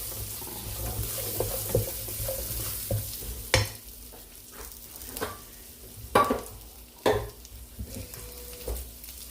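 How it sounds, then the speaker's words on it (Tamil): Soft sizzling of onions frying in oil in a pan, with occasional sharp scraping and stirring knocks from a spoon. "எண்ணெயில் நல்லா வதங்கட்டும்."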